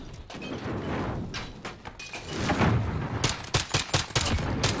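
Rapid suppressed pistol fire in a Call of Duty 2v2 gunfight match, a quick string of sharp cracks and thuds over dense game sound, clustered toward the end.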